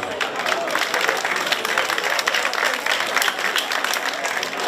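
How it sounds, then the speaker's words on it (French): A crowd at a chocolate pastry demonstration claps throughout, with thick, even applause from many hands that fills the room without any voices. "On peut les applaudir,"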